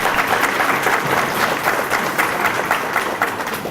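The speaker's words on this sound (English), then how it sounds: "So let's give all the kids and their parents a round of applause for making it out this evening" Guests at an annual memorial banquet applaud the kids and their parents with a steady wash of clapping from a fairly large room that holds evenly for several seconds.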